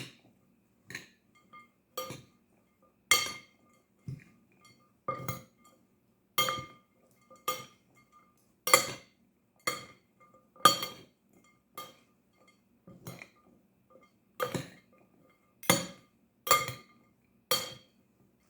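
A spoon or utensil repeatedly clinks and scrapes against a bowl while potato and eggplant salad is mixed, with sharp, evenly spaced knocks about once a second, close and fairly quiet.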